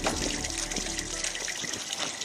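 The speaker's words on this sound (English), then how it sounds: "We are opening the outlet to release wastewater from this tank" Wastewater pours out of an opened fish tank outlet in a steady, full gush that rushes without pause, close by and fairly loud.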